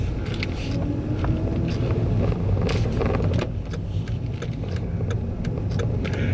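A biggish car drives slowly along a narrow track, its engine a steady low rumble close by, with scattered crunches and knocks from the rough ground under the tyres.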